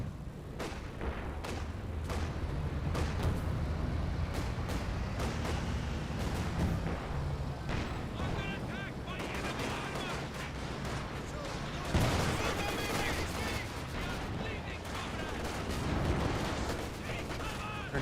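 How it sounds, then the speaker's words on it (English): Rocket barrage in the video game Company of Heroes 2 fires as a rapid string of booming blasts and dense battle noise, with a commentator talking throughout. "Two-shot rocket barrage running on in. Which is firing way back here."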